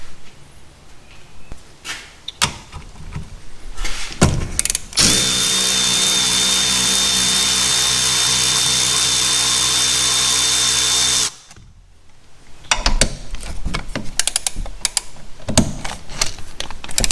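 A power tool whirs loudly and steadily for about six seconds while backing out brake caliper bolts on a 2013–2019 Ford Escape, framed by shorter clanks and tool handling in a garage before and after.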